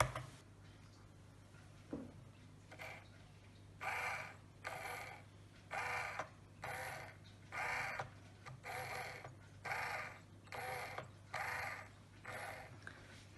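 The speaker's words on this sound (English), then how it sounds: "this floor is activated by a single throw, single pole switch. Which activates the rack and pinion mechanism." A switch-activated rack and pinion mechanism drives a moving floor, making a repeating scraping, ratcheting noise in bursts about once a second over a steady low mechanical hum, fairly faint.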